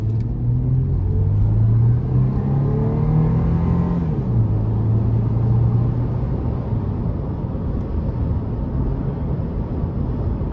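A 2004 Toyota 4Runner SR5 V6 accelerates at full throttle, its engine rumbling loudly and rising in pitch, then dropping smoothly after an upshift around four seconds and settling into a steady road drone.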